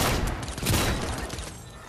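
A turret unleashing a rapid burst of gunfire in Fortnite, dense overlapping shots blurring into one loud continuous roar for a couple of seconds, tapering slightly at the end.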